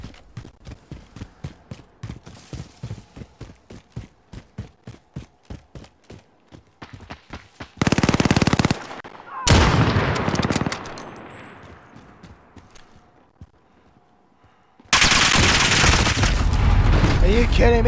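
Gunfire in Call of Duty: Modern Warfare 2 starts as a rapid run of shots, then gives way to several loud, sustained bursts of blasting noise close up, with a player talking over parts of it.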